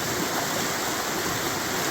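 Floodwater rushes down a swollen homestead creek in a steady, loud, broadband roar with no pauses.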